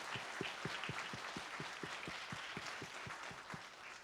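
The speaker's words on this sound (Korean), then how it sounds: "다시 한번 하나님께 큰 박수 한번 영광 올려드리겠습니다" A church congregation at a Korean Sunday sermon service claps together in a steady, evenly spaced rhythm of roughly four claps per second, soft and slightly distant in a reverberant hall.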